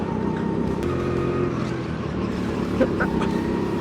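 Go-kart engine at M4 Karting, a steady droning motor hum heard from on board while driving the track, fairly loud and continuous with faint wind noise.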